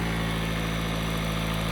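2026 Jeep Cherokee turbocharged 1.6 liter hybrid engine idling with the hood open, a steady, loud, close hum with a constant low drone and no talk.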